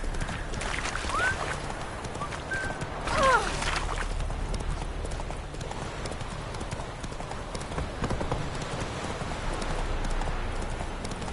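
Roach, the horse in The Witcher 3: Hearts of Stone, gallops with steady rhythmic hoofbeats close up over a constant outdoor wind-like bed, with a brief whinny-like call near the start and no talking.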